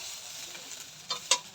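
Rice frying in ghee in a pan over lowered gas heat, stirred gently, giving a quiet steady sizzle with a couple of soft scraping stir sounds near the end.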